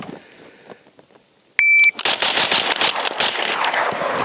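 Springfield Armory Hellion bullpup rifle fired at a range: after quiet handling noises, a loud sharp shot with a brief beep, followed by a rapid string of close, cracking rounds.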